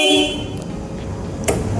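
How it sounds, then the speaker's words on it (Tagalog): A Kawasaki Vulcan 650S motorcycle horn sounds as a steady, fairly loud honk lasting most of the moment, heard close by. "malakas ang busina niya."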